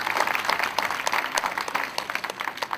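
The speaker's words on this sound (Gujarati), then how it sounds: "આ નજરાણા માટે તાળીઓથી વેળાવો." An audience at a village Gramratna award ceremony in Mota Devadiya claps together, a dense, loud burst of applause that holds steady across the moment without anyone speaking over it.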